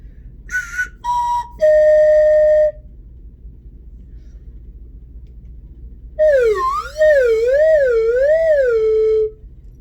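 A whistle in an elementary school music lesson sounds a few short toots and a held note, then after a pause a long warbling whistle that wavers up and down, loud and close.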